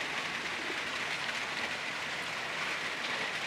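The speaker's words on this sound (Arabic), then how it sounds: "الجو اليوم برا مطر" Cold rain falling outside, a faint, steady hiss of drops on surfaces heard from indoors at a distance, continuous and even throughout with no talk.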